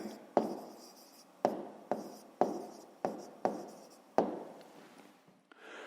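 A pen or marker writes math solutions by hand on paper in a quiet room, seven short scratchy strokes that start crisply and fade quickly, spaced roughly half a second to a second apart, close and faint.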